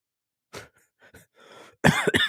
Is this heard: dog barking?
no